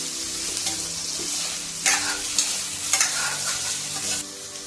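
Paneer and soy chunks fry in hot oil while being stirred in a pan, a steady close sizzle with scraping stir strokes and a few louder spatters, no voices.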